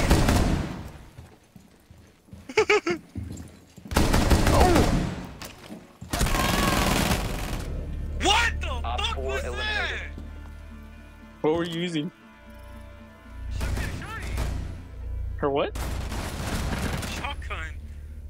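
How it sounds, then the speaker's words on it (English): Shotgun blasts and other gunfire in a round of Rainbow Six Siege come in loud, broad bursts separated by pauses, with players talking between the shots. "This shotgun's only good close range."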